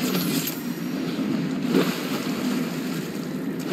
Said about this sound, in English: Oh, it's water.